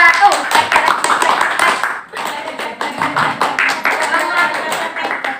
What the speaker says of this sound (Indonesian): Tepuk 1 itu gini bunyinya